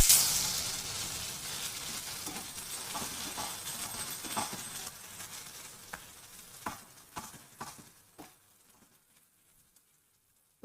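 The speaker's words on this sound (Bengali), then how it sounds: "সবজিগুলোকে এবার ভালো করে ফ্রাই করে নেব" Vegetables fry in a pan for khichuri, a steady hiss and sizzle that fades over several seconds, broken by scattered stirring clinks and pops near the end, with no voices.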